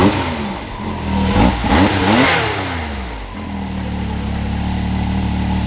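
A 2020 Can-Am X3 RC engine, running smoothly once its loose ignition coil is plugged in fully, gives a couple of quick throttle blips before settling into a steady, even idle, loud and close.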